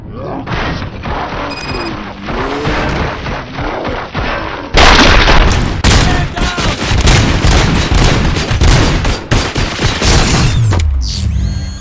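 Gunfire in RoboCop: Rogue City, rapid loud bursts of shots with crashes and impacts, dense and continuous after a quieter opening stretch, with some voices mixed in.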